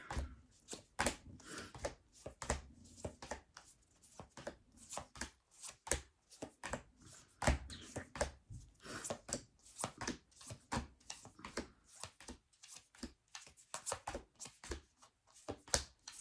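Tarot cards shuffled by hand in a quick, continuous riffling and slapping rhythm, close and fairly soft, with brief pauses and no talk.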